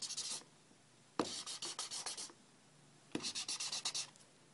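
Felt-tip marker ink rubbed off onto a scrap of scratch paper in two bursts of quick, scratchy back-and-forth strokes, close and fairly quiet, with a short pause between them.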